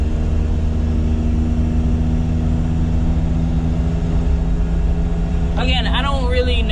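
Daihatsu Midget 2 engine drones steadily while driving at low speed, a loud, constant low hum heard from inside, with a voice starting to speak near the end.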